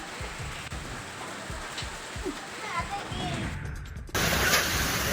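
Heavy unseasonal rain driven by stormy wind, pattering steadily and close across the whole stretch, then swelling abruptly louder and brighter near the end as the downpour intensifies.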